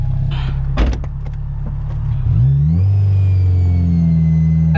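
A Honda S2000 with a previously failed transmission gives a few clicks and knocks, then its engine pulls up through a gear, the loud close drone climbing in pitch and settling into a steady run.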